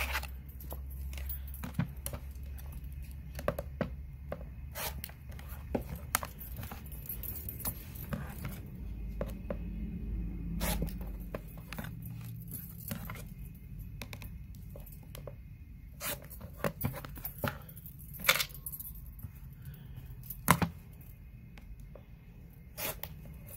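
Fabric for a Galaxy Star quilt block is trimmed with short, scratchy cutting strokes and occasional sharp clicks that repeat unevenly. The sounds are close and fairly quiet, with no talking.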